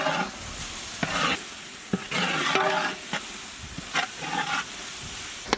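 Chicken masala and coriander powder frying in a pan for a chicken and broccoli dish: a steady soft sizzle with sharp scraping stirs at irregular intervals, close and fairly quiet, with no voices.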